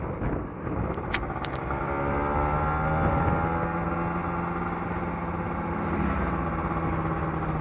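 A Kawasaki Ninja RR two-stroke motorcycle engine running close by, a steady buzzing drone with a faint rise in pitch partway through and no talk over it.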